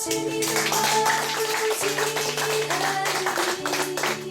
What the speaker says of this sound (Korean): 영광의 박수를